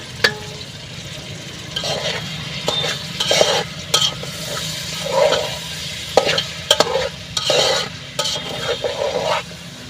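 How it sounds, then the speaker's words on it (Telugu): Tomatoes fry in a pan under a steady sizzle while a utensil stirs them, producing intermittent scraping and clinking strokes against the metal, close and loud, with no talking. "టమాటాలు వేసుకుంటున్నాను"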